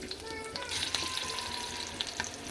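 Slit green chilies hit hot oil in a pan, crackling and sizzling steadily with sharp sputtering pops scattered throughout, close and fairly loud with no voices.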